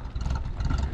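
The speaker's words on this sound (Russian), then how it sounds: "Сузуки моторчик. Это чисто для промысла катер." A Suzuki outboard motor of about 200 horsepower on a commercial fishing boat idles with a steady low, rumbling hum, close and continuous.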